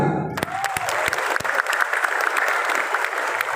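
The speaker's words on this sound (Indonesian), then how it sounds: "Aplaus untuk beliau." An indoor audience at a millennial gathering applauds for minister Erick Thohir, dense sustained clapping following a brief voice at the start.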